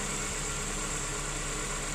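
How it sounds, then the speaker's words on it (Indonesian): A used car's engine, checked while inspecting the vehicle before purchase, idles with a steady, even hum and a constant high-pitched whine, close and unchanging throughout. "Nah ini kondisi mesin engine yang masih bagus ya, jadi kayak gini"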